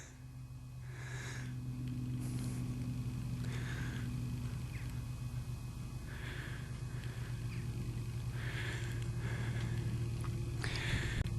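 A farmer's quad bike drones steadily as it passes along a countryside path, a constant close engine hum lasting throughout, with brief rustling bursts on top.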